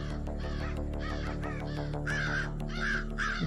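Several harsh crow caws repeat in short bursts, loud and close, over a steady low background hum with no talking.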